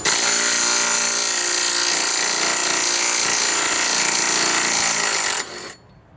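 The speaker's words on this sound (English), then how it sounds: "Now we're gonna take these 2 14 millimeter bolts up off top." Power tool buzzing loud and continuous up close while taking out two 14 mm top bolts on a coilover fork of a classic Honda, then cutting off abruptly near the end.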